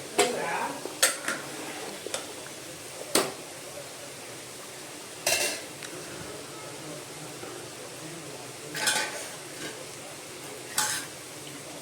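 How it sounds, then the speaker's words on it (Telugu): Food frying with turmeric in a pan, a spoon stirring and knocking against the metal in scattered sharp clinks over a soft steady sizzle, close by. "కొంచెం పసుపు కలిపి వేగనివ్వాలి."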